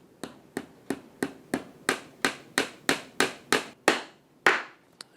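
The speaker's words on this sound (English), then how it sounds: "Set the nail in place and just hammer it home." Hammer blows drive a nail into the wooden frame of a family train layout: about thirteen sharp, evenly spaced strikes, close and loud, each ringing briefly, with two final harder hits after a short pause.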